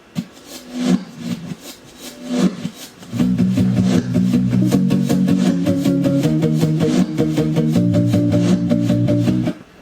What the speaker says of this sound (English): there's some reverse drums going on here